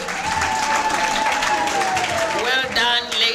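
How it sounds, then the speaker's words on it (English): An audience at an award ceremony applauds, warm continuous clapping at even loudness, with a voice speaking over it and music tones rising near the end. "Can we just applaud them"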